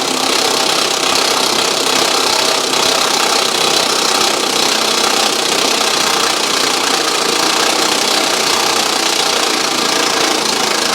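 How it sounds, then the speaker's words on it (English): An impact wrench snugs down the bolts of a hidden hitch receiver on a 2023 Audi, a continuous, loud, rattling hammer that runs unbroken throughout and stands alone with no talk. "I'm going to take my impact, snug these down a little bit until we get close"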